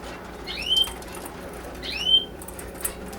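Canaries in a cage flap their wings in two quick, close bursts, light fluttering over a quiet room background, with a faint chirp between.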